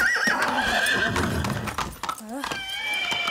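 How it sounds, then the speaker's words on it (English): A horse in the video game Far Cry 6 whinnies and neighs loudly, with hoof clip-clops and someone talking over it throughout. "That's a horse and some paint."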